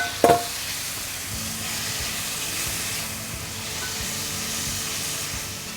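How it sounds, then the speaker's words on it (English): Eggs frying in a pan for a Chinese egg-and-tomato stir-fry give off a steady hissing sizzle, opened by a sharp clack and dotted with faint stirring taps, with no voices. "Then you can put in the eggs."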